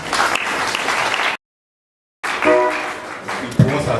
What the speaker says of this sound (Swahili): Pigeni makofi kwanza.